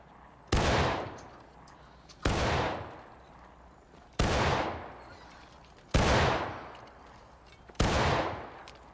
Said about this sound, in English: firing by file from the right with a 2 second interval